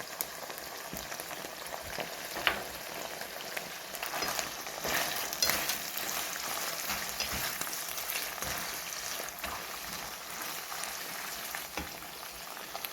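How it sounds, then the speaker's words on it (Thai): Bamboo shoots and beaten egg stir-fried in a pan, a steady broadband sizzle with scraping stir strokes running throughout, close and continuous with no talking. "จะมาผัดให้ เขาเข้ากันค่ะ"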